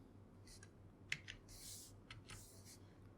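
Quiet computer keyboard typing, a few scattered soft clicks and short bursts of keystrokes spread across a few seconds against a faint background hum.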